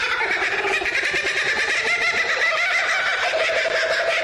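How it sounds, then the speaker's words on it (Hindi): A laughing kookaburra calls in a loud, close, continuous cackling chorus that rises and falls rhythmically, heard alone without any talk. "Number 1, laughing कुकाबुर्रा। इसकी आवाज ऐसी है मानो कोई चुड़ैल हंस रही है।"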